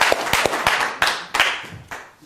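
A few audience members clap after a card trick at a magic show, roughly ten sharp separate claps spaced unevenly, loud and close, fading toward the end with no voices.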